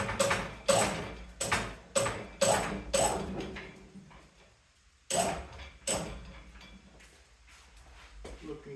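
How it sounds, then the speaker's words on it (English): A Big Joe lift raises the head of a 1953 Curtis compressor with a run of loud, rhythmic mechanical clunks and ratcheting strokes, about every half second, then a pause before a few more strokes resume close by. "when I lift up, it's going to lift the compressor head up and those cooling fins away from this mounting plate"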